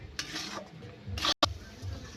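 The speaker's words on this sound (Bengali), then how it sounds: "বন্ধুরা, এইভাবে নাড়তে নাড়তে একটা ডোয়ের মতো করে বানিয়ে নেব।" A Gobindobhog rice sandesh mixture is stirred into a dough in a pan, giving soft scraping and stirring sounds with a couple of sharper clinks near the end. No one speaks.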